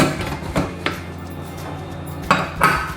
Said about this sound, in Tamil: இந்த பருப்பு பாத்திரத்தை இதுக்குள்ளே இறக்கிட்டு